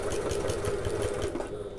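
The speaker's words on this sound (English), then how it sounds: "we're going to sew them 1/4 inch from the edge of the fabric" A sewing machine stitching faux leather to polyester webbing, running in a fast, even mechanical chatter with a steady hum throughout, close by with no talking.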